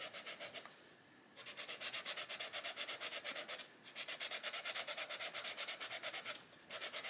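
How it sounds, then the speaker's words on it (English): A pencil eraser rubs out lavender coloured pencil on paper in fast, rhythmic back-and-forth strokes, close and dry, in three bursts separated by short pauses, with no one talking. "I'm going to just erase the that back a little bit"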